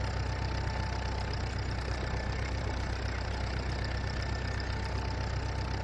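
INT tractor engine idling in the Farming Simulator 19 video game, a steady, even low rumble with a faint hum on top, constant and close with no talk.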